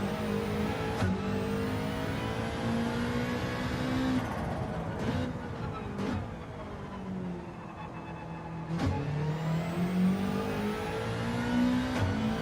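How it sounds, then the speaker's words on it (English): Subaru race car in Gran Turismo 7, its engine revving continuously with rising and falling pitch through gear changes and corners, loud and close with no talk. "We're driving the Subaru."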